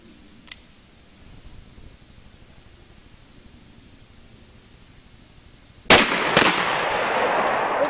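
Two loud, close shotgun blasts from a Beretta 12 gauge fired at steel targets outdoors, arriving in quick succession near the end after a long stretch of quiet background hiss, followed by a sustained noisy wash.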